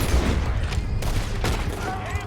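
Carbine repeater rifle gunfire in Red Dead Redemption 2, with loud rapid shots and booming reports layered over dense, continuous game audio for the whole stretch.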